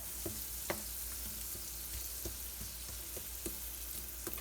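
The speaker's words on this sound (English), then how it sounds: "We have our butter melted, and now we're going to add our carrots." Fresh carrots sauté in melted butter over medium heat with a soft, steady sizzle broken by faint scattered clicks and taps of stirring, fairly quiet throughout.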